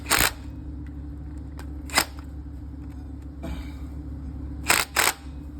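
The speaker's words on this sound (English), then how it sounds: "And I go ahead and tighten these up." Bolts being tightened on a Cummins X15 diesel engine, a few sharp ratchet clicks and metallic snaps spaced apart over a low steady hum, close by.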